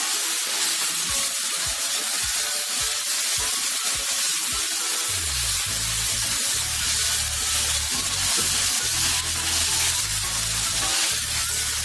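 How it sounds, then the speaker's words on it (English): Roughly chopped tomato frying in olive oil for chana masala, a loud, continuous close sizzle and hiss, with a few knocks of stirring early on. "2 minutes need to fry it in the oil"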